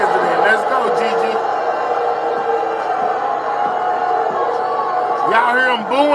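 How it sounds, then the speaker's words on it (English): A dense protest crowd roars continuously in the foreground, with voices rising and falling and a few louder shouts near the end, sounding like booing aimed at Trump over the strikes on Iran's nuclear sites. "Y'all hear him booing Trump?"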